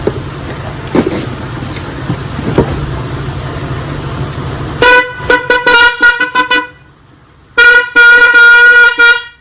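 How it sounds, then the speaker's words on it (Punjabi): A set of aftermarket tractor accessory horns, sold around 2500 rupees, is sounded in loud musical blasts: a rapid string of short toots, a pause, then another burst of repeated tones, following a brief stretch of background noise and knocks. "ਆਪਣੇ ਕੋਲ ਹਾਰਨ ਵੀ ਵਾਵਾ ਹੁੰਦੇ ਆ ਹਾਂ ਹਾਂ ਹਾਰਨ ਦਿਖਾ ਦਿਓ ਬਾਈ"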